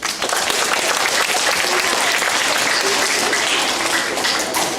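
Fifth-grade students at a school farewell clap for their classmates, a dense, steady round of applause from a large group that stays loud and even throughout, with no pauses.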